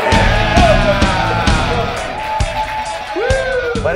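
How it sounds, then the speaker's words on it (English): A studio audience at a cooking TV show taping cheers, whoops and claps loudly and continuously, with sharp individual claps punctuating the crowd noise. "Give yourselves a round of applause for being here today"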